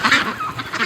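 Breeding ducks give a short flurry of nasal honking calls, close by and overlapping in under a second.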